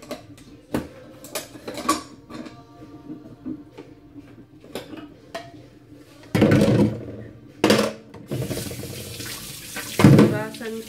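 A tap runs into a sink in short bursts as something is rinsed with plain water, with clinks and handling sounds between the gushes and a person speaking in the background.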